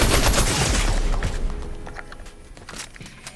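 Rapid bursts of gunfire in Fortnite, loud and dense at the start and thinning into scattered shots with some footsteps. The clip carries no speech.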